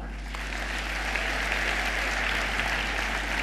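An audience applauds at a gala evening for the Miss Hasička and Firefighter of the Year pageant, with steady, sustained clapping that swells slightly and holds at a moderate distance.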